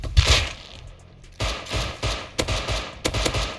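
An AK rifle fires in the survival video game Rust, several sharp, loud gunshots in uneven bursts, some single and some in quick pairs, close and punchy.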